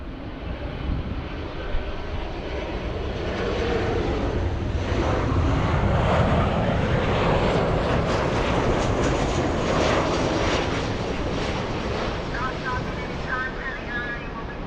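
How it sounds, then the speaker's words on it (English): A United Airlines jet arriving from Denver roars in to land at LAX, its engine noise swelling to a loud, broad rush in the middle and easing off toward the end. "Next arrival we have is United Airlines 1252 flying in from Denver."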